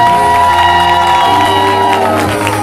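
An improv comedy audience cheers and shouts together in a loud, dense burst of crowd noise, continuous for a few seconds.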